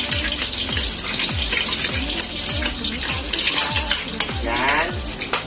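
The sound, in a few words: garlic sautéing in a pan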